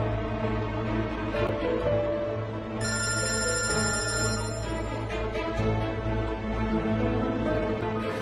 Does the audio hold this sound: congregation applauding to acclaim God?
no